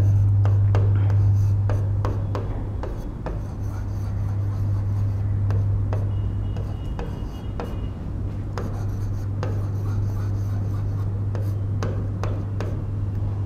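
A marker writes on a board during a chemistry lesson with repeated scratchy, squeaky strokes and taps in irregular bursts, up close over a steady low electrical hum, with no speech.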